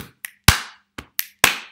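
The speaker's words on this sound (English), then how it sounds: "Don't clap this one back." Six sharp hand claps in an uneven rhythm, close and crisp, some short and dry and others louder with a brief ring, separated by silent gaps, as a call-and-response clapping pattern.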